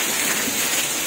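Heavy monsoon rain pours steadily as a dense, unbroken hiss, close and constant throughout with no voices.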